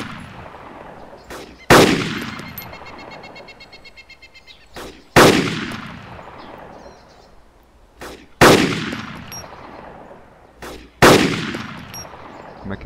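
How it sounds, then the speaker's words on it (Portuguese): Gunfire in the video game DayZ: four loud, sharp shots spaced a few seconds apart, each ringing out with a long echoing tail, with quieter ambient noise between them. "Já acertei um tiro nele, mas não matou."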